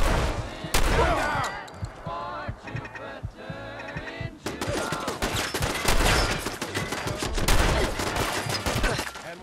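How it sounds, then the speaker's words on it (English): Fireworks in Fallout 4 crackle and bang in rapid, overlapping bursts, loud and nearly continuous, with a short lull before a denser barrage. "Here come the fireworks!"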